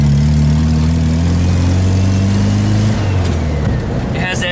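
Stock-carbureted 1776 VW Super Beetle engine idling at close range with a steady low harmonic drone, the tone shifting slightly near the three-second mark as speech comes in over it.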